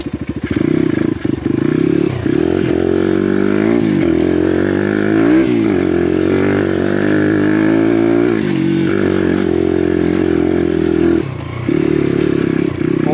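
An Apollo RXF Enduro 150 motorcycle engine idles steadily just after starting, a close, continuous motor drone with small rises and dips in revs and some mechanical clatter throughout.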